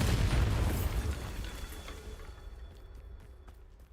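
Bombarda blasting spell explosion in the Hogwarts Legacy video game: a loud, deep boom right at the start that rumbles and slowly fades over several seconds, with faint crackling debris in the tail.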